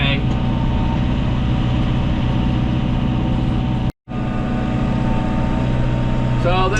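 A farm vehicle rumbles steadily through a snowy winter pasture while hauling hay, a loud continuous engine drone heard close from inside the cab, broken only by one brief drop to silence.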